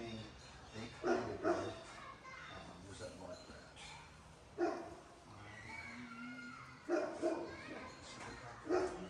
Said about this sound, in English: Some guard dog, Winnie.